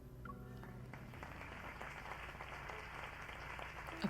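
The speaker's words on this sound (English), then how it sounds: "Applause fills the hall." Faint, continuous applause from a crowd filling a banquet hall, a soft wash of many hands clapping at low level throughout.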